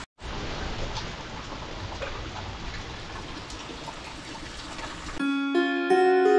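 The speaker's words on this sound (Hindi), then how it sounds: "बारिश तो रुकने का नाम नहीं ले रही है, कंटिन्यू बारिश हो ही रही है और ये बारिश लगातार चल रही है।" Steady, continuous rain falling outdoors, a dense even hiss for most of the clip before it cuts away to a sustained tonal sound at the end.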